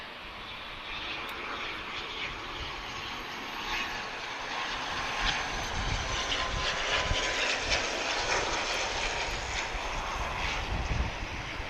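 An airliner landing in a crosswind at Lisbon Airport, its engine roar building gradually from a moderate rumble to a louder, steady wash with no speech.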